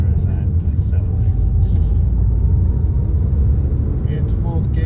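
A learner car accelerates on a road near a roundabout: a steady, loud low engine and road rumble throughout, with a driver talking over it.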